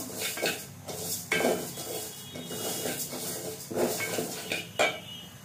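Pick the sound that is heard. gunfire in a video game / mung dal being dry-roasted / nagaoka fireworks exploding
mung dal being dry-roasted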